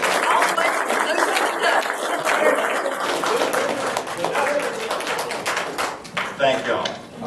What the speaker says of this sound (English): And applause for our special guest here tonight.